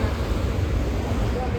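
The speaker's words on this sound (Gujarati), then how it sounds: "અંદર પવન આવે પછી તાકાતવાળો પવન આવે" Strong wind blows in a steady, dense roar with low buffeting rumble, close and loud throughout.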